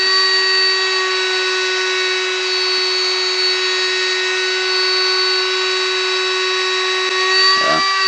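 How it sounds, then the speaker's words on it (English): A Milwaukee rotary tool runs steadily on its own, with a constant high whine and fan noise, then a brief dip in pitch shortly before it ends. "the fan noise is going to be the loudest, and that's what we're hearing there"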